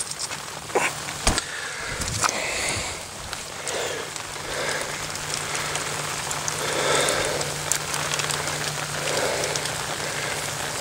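Steady rain patters on surfaces outdoors in an Alabama field during arrowhead hunting, a continuous close hiss of drops with a few louder knocks and rustles, no voices.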